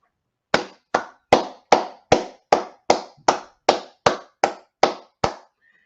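Thirteen sharp, separate hand claps land at an even pace about half a second apart, each one crisp and close with silence between, from a single pair of hands rather than a crowd.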